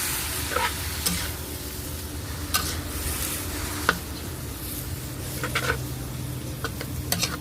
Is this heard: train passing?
no